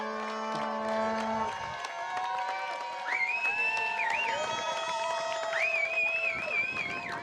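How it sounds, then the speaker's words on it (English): Nova Scotia crowd cheering and roaring at a Canada Games rugby sevens quarterfinal, a steady wash of noise with whistles or horn-like tones including a vuvuzela rising over it. "The Nova Scotia crowd bringing the noise, waving the flags high, including a vuvuzela."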